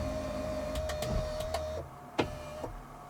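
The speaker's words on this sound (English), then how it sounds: "changes the seat and the steering wheel a little bit" Tesla power seat and steering wheel motors adjusting to a driver profile, a thin electric motor whine holding steady for under two seconds, then stopping, with a few soft clicks and thumps around it, close and fairly quiet.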